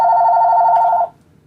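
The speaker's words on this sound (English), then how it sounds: "And I'm sorry you can hear my phone ringing in the background." A telephone rings in a steady electronic tone for about a second before cutting off, loud and alone with no talking.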